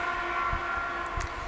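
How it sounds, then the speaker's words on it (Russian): Suburban electric train passing nearby, a steady mid-level rumble with tonal hum and a couple of faint high squeals, heard alone without talk. "Электрички у меня тут ездят."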